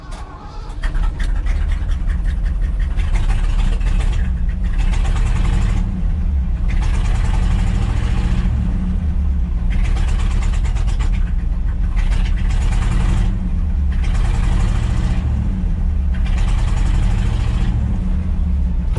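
A 1975 Ford F750 pipeline truck engine idles steadily after a cold start, a loud, close, continuous rumble with rhythmic surges as the throttle is nudged to keep it running.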